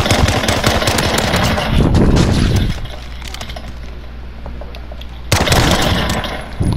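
Gunfire from the Call of Duty Modern Warfare video game in a 2v2 match, with loud dense bursts of automatic shots at the start, a quieter stretch, then another close burst near the end.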